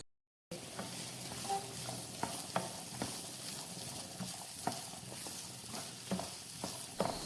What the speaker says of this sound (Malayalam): പാൻ അടുപ്പിൽ വെച്ച് ചൂടാകുമ്പോൾ കുറച്ച് വെളിച്ചെണ്ണ ഒഴിച്ച് അതിലേക്ക് 15 കൊച്ചുള്ളി ചെറുതായി അരിഞ്ഞതും 1 സവോള ചെറുതായി അരിഞ്ഞതും കുറച്ച് കറിവേപ്പില ഇട്ട് വഴറ്റിയെടുക്കാം